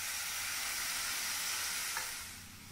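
Chopped tomatoes going into a pan of sautéed onions for paneer butter masala, giving a soft, even sizzle that fades slightly near the end, with no talking.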